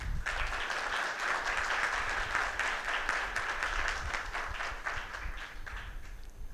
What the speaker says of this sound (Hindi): उनके सम्मान में तालियां बजाएं।